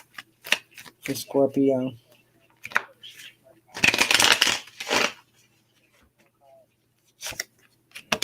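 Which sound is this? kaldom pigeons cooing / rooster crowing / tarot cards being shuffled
tarot cards being shuffled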